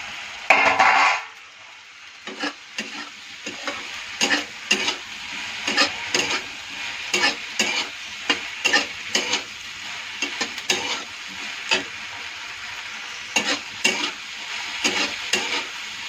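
Potatoes and spices fry in a pan, a soft steady sizzle broken by regular scraping strokes of a spatula stirring the food, with a louder clatter near the start.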